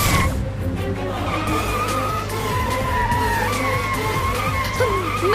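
A car skids with long, loud tire squeals after its brakes fail, a dramatic TV serial sound effect layered over a steady low engine rumble for several seconds.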